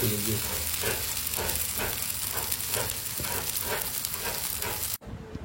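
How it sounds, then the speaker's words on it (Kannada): Pieces of king fish fry in a pan with a steady, close sizzle and faint pops that run without a break, then cut off abruptly near the end. "ಈಗ ಫ್ರೈ"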